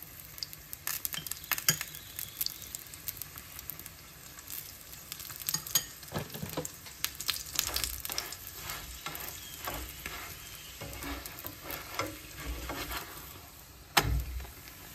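Parathas frying in a hot pan with oil, a steady sizzle running throughout and occasional scrapes and clinks of a utensil stirring or turning them, close and fairly loud with no talking.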